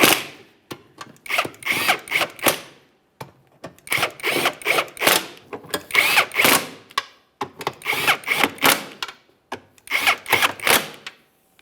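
Power tool running down the six bolts of a rear transmission mount on a 2011-2021 Jeep Grand Cherokee 3.6L V6: repeated short bursts of whirring and ratcheting, near and loud, separated by brief pauses.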